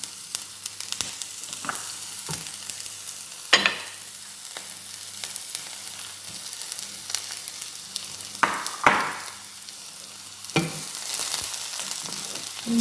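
Sliced green chillies sautéing in a pan with fennel seeds, onion and dried chillies, a continuous close sizzle broken by occasional stirring scrapes and clacks of the spatula.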